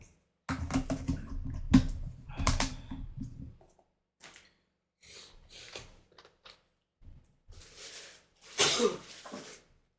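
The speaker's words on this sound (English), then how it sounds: "big sneezes today" Several loud, close sneezes from one person burst out in quick succession with short gaps between them, followed by quieter breathy sounds and murmurs.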